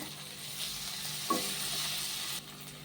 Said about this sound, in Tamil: இப்போ நம்ம நறுக்கி வச்சுருக்க தக்காளியை சேர்த்துக்கோங்க. சேர்த்து அதையும் நல்லா மிக்ஸ் பண்ணிக்கோங்க.